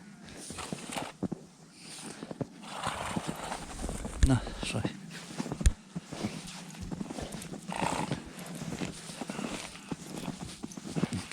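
Draft horse hooves clip-clopping at an irregular pace nearby at a horse sale in Ukraine, with a brief whinny and people talking over it.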